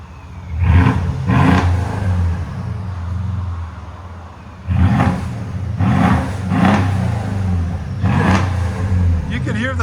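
A Mercedes S550 S-Class 5.5L V8 with the muffler deleted, revved in several loud close bursts, the blips rising and falling with a whirring turbo spool between them.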